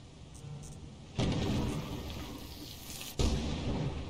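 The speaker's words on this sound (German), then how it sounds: "Ich bin wirklich vom Blitz getroffen, Mann, ich fass das nicht" Lightning strike in the video game Lethal Company: two sudden loud thunder cracks, one near the start and one near the end, each rolling into sustained rumble over a steady rain-like wash.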